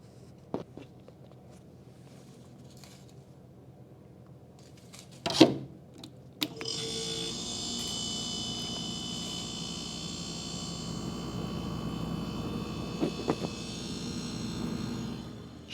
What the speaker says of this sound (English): Put the mic next to the compressor